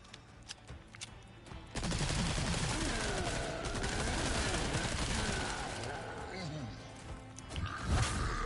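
Sustained submachine gun fire in Resident Evil 4 Separate Ways, a loud dense burst running for several seconds with a voice talking over part of it.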